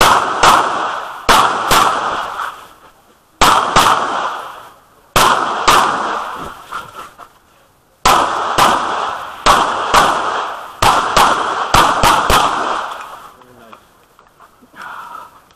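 Pistol gunshots at an outdoor shooting match, sharp loud cracks fired in quick strings with echoing tails and brief pauses between strings, close by.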